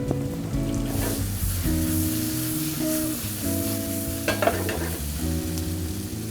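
Onion dropped into a pan of shiitake mushrooms sizzling in brown butter, with a steady close frying hiss and scraping stirring strokes throughout; no talking.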